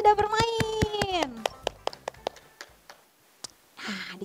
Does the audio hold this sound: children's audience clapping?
yes